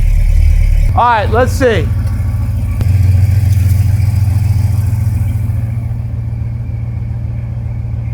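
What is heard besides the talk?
Ford Galaxie 500 engine idling and revving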